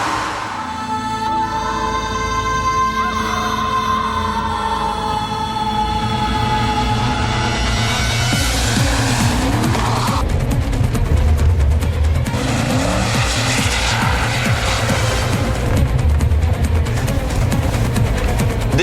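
Mercedes-Benz ML 63 AMG sliding on a wet resin track: a loud engine roar rises in pitch, then grows harsher with tyre noise as the car slides, steady and close, with no talking.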